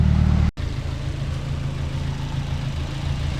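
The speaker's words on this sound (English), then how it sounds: "I'm just letting the car warm up right now, because you gotta have warm engine to do compression test" A Nissan KA24DE engine idles while warming up, a steady low mechanical hum with a brief cut near the start, then an even drone held at close range.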